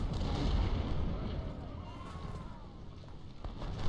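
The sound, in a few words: artillery and gunfire in video game Ultimate General: Civil War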